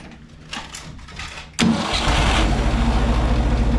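A Ford 3600 gasoline tractor engine cranks briefly without choke, then catches abruptly on a cold start and settles into a loud, steady, chugging idle.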